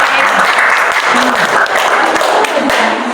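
Applause in a classroom: a burst of clapping from a group of students, close and steady throughout, with voices faintly audible beneath it.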